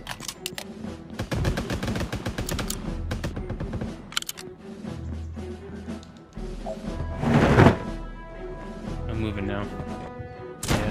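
Gunfire in the Toy Soldiers battle royale shooter game: rapid bursts of sharp shots, fast volleys early and heavy impacts later, with players talking over the action.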